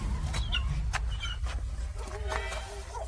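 Jungle fowl clucking in short, repeated calls amid rustling and background drama sound, the birds close and moderately loud with a brief higher call near the middle.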